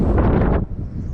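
Strong wind of about 20 miles an hour buffeting the microphone on a winter night of crappie fishing from the water, a loud steady roar with gusts that eases slightly near the end.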